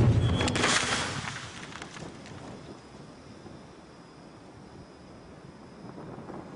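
An 1815-era artillery cannon fires canister shot with one loud blast at the start, which fades into a long, low rumbling decay under steady outdoor wind noise.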